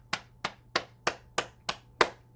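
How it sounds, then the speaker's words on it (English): Seven sharp, evenly spaced hand claps close to the microphone, each a crisp slap with a short decay, during a morning bouncing and self-massage exercise session in a quiet room. "Let's clap our hands."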